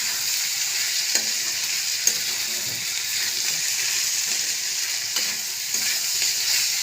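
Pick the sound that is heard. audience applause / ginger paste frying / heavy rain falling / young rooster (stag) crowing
ginger paste frying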